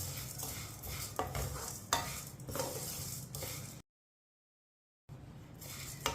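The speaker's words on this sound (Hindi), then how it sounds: "सेवइयों को मैंने 2 मिनट के लिए भून लिया है" Vermicelli (seviyan) roasting over low heat in a pan while a spoon stirs it continuously, a close, steady scraping and light sizzle with occasional clinks, cutting to silence for a moment before the stirring resumes.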